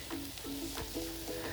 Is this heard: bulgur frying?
yes